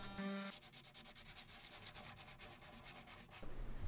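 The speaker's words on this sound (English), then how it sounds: "So we're back to sanding it. I'm using 40 grit again" Rough 40-grit sandpaper scrubs across a cracked carbon fiber Armstrong foil board under repair, giving quiet, rhythmic back-and-forth rasping strokes that continue steadily with no talking.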